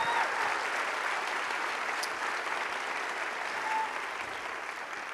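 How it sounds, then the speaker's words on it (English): A film-festival audience applauds a director receiving an award, steady dense clapping from a large crowd that holds at an even level from start to finish with no voices on top. "Give a big round of applause for Yorgos Lanthimos."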